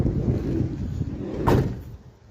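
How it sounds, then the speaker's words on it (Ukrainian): The door of a 2021 Mercedes-Benz Sprinter 316 van shuts once with a single solid thud about midway through, set against a steady broadband outdoor rumble. "закрив дверку."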